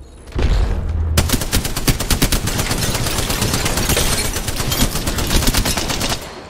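Sustained automatic gunfire in Apex Legends, a long rapid string of loud evenly spaced shots beginning after a short lead-in and running nearly to the end.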